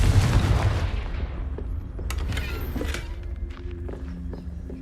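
In the Hogwarts Legacy video game, a Confringo blasting spell goes off as a loud booming burst that decays into a rumble, followed by faint clicks and a sustained low tone.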